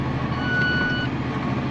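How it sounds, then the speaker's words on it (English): An alarm beeps steadily on a drilling machine during the last pass of a field drilling job, a thin continuous tone riding over a loud, constant engine and machinery rumble. "the alarm's been going off for ages"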